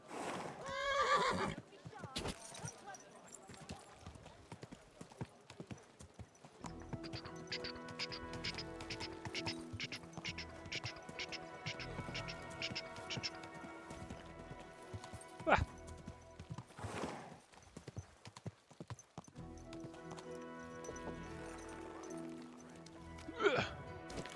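Horse neighing and clopping hooves in the video game Kingdom Come: Deliverance II, with a whinny early on and scattered hoof sounds amid busy game music and ambient character voices talking throughout.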